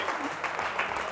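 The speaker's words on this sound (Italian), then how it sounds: "facciamo un applauso" A brief burst of steady audience applause at an Italian prize presentation, dense and continuous clapping from a crowd.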